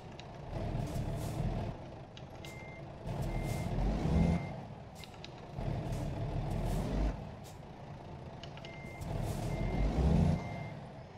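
A heavy truck in American Truck Simulator backing up, its reversing alarm beeping in slow repeating cycles over a deep idling engine rumble and occasional air-brake hiss.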